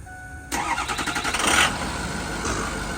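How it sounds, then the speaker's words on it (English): A truck engine cranks and catches, a sputtering churn turning into a loud steady rumble as it settles into idle, close by. "I hope it starts because it did start earlier."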